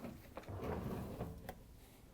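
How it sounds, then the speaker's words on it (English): A Whirlpool dishwasher door swings open with a smooth sliding rumble and a few soft clicks and knocks from the hinge and latch, close and moderately quiet, with no talk. "first thing we have to do is open up the dishwasher door"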